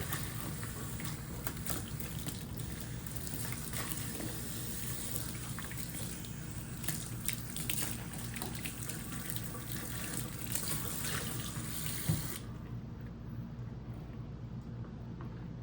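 Tap water runs steadily and fairly close as a Holmes 12-inch fan blade is rinsed under it, a broad continuous splash that stops abruptly near the end, with no talk.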